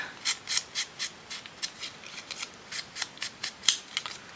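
Scissors snip through paper embellishments in quick, quiet cuts, about a dozen crisp close-up strokes in an uneven rhythm with no talking.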